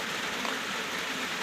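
Steady rain falls outdoors in a rural Thai cattle-grazing setting, a dense, even hiss of drops on surfaces filling the whole stretch at constant level, with no voices.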